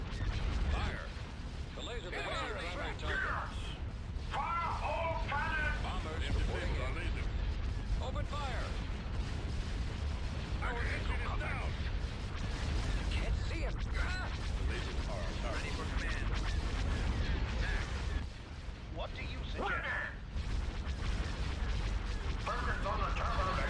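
Laser banks fire in the Star Wars space strategy game Thrawn's Revenge, with deep rumbling booms and repeated blasts under a steady low roar, interspersed with in-game voice lines throughout.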